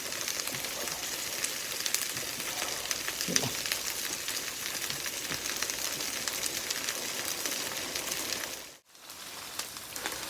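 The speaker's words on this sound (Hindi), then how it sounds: "साथ ही हमारा ये गोश्त भी भून रहा है" Gosht (meat) frying in a pan for bhindi gosht, a steady dense sizzle like rain on a surface, continuous and fairly even throughout, with a brief dip near the end.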